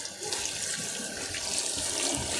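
Tap water runs steadily into a sink for soaking chicken thighs, a continuous close gushing splash with no talk over it.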